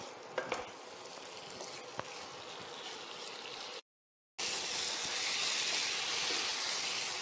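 Coriander chicken sizzling and being stirred in a pan, a steady dense frying hiss with a few sharp scrape clicks early on, a brief cut of silence midway, then louder continuous sizzle; no talking.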